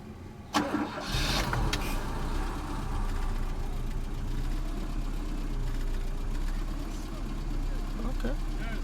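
A Peugeot 2.0 XN1A engine cranks with a sharp catch, then settles into a steady, slightly rough idle, close and continuous.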